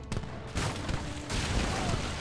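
Cannon fire in the Age of Empires III Definitive Edition strategy game, a dense, continuous barrage of booming shots and crackling gunfire with no pauses.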